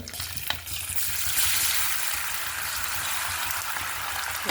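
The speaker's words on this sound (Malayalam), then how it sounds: "എണ്ണ നല്ല ചൂടായിട്ടുണ്ട് നമ്മൾ അതിലോട്ട് കുറച്ച് വേപ്പിലിട്ട് കൊടുത്തിട്ടുണ്ട്" Curry leaves fry in very hot oil for a sardine pickle, giving a continuous close sizzle and crackle with a brief sharper spatter near the start.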